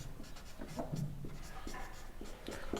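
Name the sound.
writing on paper during a maths lesson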